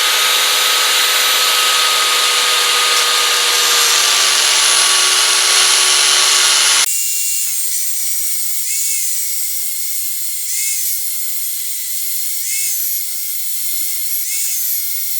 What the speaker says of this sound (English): I'm just going to use an angle grinder to cut maybe 1/8 of an inch groove down each section